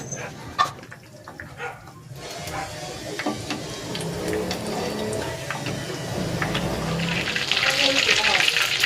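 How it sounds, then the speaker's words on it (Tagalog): Hot oil sizzling and crackling as breaded chicken fries, the hiss growing louder and denser toward the end, with a voice talking over it early on. "Nagpainit na ako ng mantika, magpiprito na ako."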